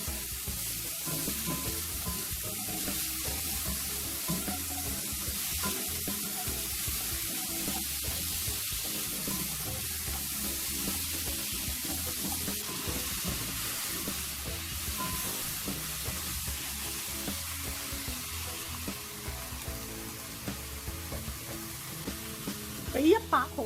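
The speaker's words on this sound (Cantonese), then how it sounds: "打爆呢個冬瓜" Winter melon pieces with ginger slices stir-fried in a wok with leftover shrimp oil, a steady soft sizzle running continuously with occasional stirring scrapes, a quiet voice now and then.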